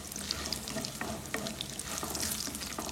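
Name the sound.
sautéing cashews, urad dal and curry leaves in a pan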